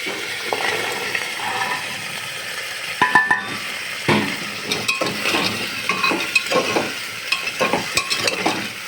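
Peas and potatoes frying in oil sizzle gently while a spoon repeatedly scrapes and clatters against the pan, giving irregular stirring knocks and rattles up close, with no speech.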